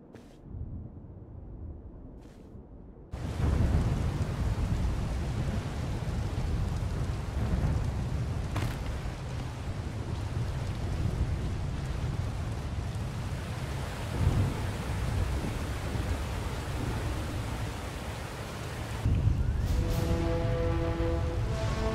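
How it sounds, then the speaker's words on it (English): Heavy rain with rumbling thunder from a storm in Star Wars The Old Republic, a quiet start giving way to a dense, loud, steady downpour with rolling booms, then a musical tone rising in the last seconds. "a fierce storm coming our way"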